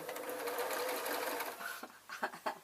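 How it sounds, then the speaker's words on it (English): A sewing machine stitches onto a strip of fabric for a rag doll, running in a steady close whir for nearly two seconds, then slowing into a few short, separate bursts. "I'm going to sew onto the fabric."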